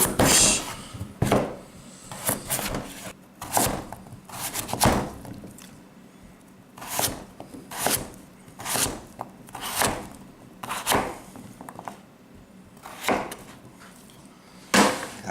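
Knife cutting potatoes into big quarters on a wooden board, a series of sharp chops, sometimes in quick pairs, close up and separated by short pauses.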